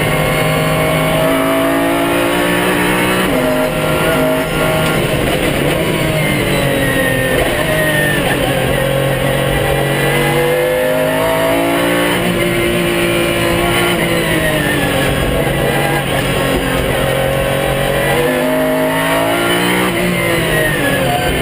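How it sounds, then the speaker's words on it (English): Pagani Zonda R race car with an Xtrac six-speed straight-cut sequential gearbox in a magnesium casing, its engine howling loud and close through repeated revving and shifts, with gear whine running underneath the whole time. "Pagani Zonda R."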